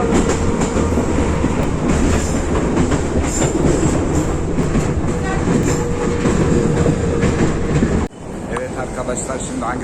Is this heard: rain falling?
no